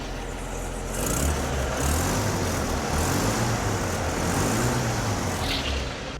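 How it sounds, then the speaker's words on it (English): A 1951 Chevrolet Fleetline's engine revs up and holds with exhaust rumble from behind the car, a steady loud low drone rising in waves through the clip with no talking. "I can also rev it up and they can hear the exhaust"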